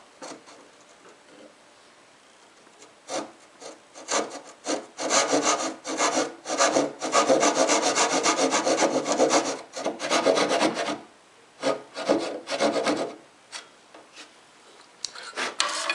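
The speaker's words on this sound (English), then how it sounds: "Now with that edge well established, I can go ahead and cut out the miter with my dovetail saw." Hand sawing with a fine dovetail saw through pine, cutting a miter for a country lamp table: steady close rasping back-and-forth strokes, sparse at first, then a dense continuous run of cutting with brief pauses near the end.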